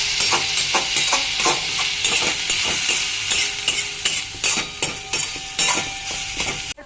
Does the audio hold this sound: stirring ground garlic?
yes